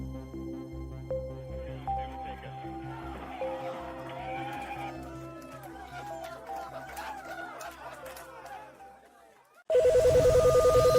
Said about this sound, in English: the NASA hotline is ringing off the hook